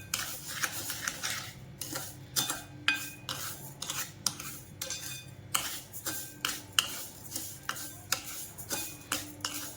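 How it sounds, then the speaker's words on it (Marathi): A utensil stirs sugar in a pan for sesame chikki, scraping in a quick, steady rhythm of crisp clinks and scrapes, close and continuous with no talking. "सारखं हलवत राहायचं याला अजिबात थांबायचं नाही"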